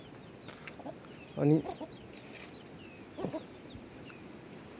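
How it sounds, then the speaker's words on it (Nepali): Chickens on a village farm cluck near the listener in two short bursts of calls over quiet outdoor ambience, with a faint voice briefly present. "हेर्नुहोस् कुखुराहरू, कुखुरा पाल्नुपर्छ हो"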